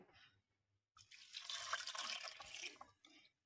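Water poured into a cooking pot with chillies and raisins, a steady splashing stream of about two seconds rising and fading, close and fairly loud after a brief quiet start.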